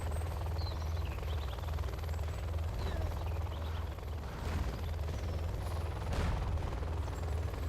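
A Helix helicopter in Command & Conquer Generals Zero Hour thrums with a steady rotor drone near an airfield, mixed with distant machine-gun fire and battle clatter, all moderately loud and continuous throughout.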